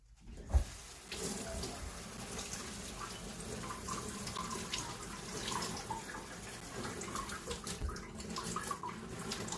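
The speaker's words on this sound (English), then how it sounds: "now we're gonna put some collard greens in there. I'm gonna wash these." Tap water runs steadily into a sink while collard greens are washed, a continuous close splashing rush with a few knocks and drips and no one talking.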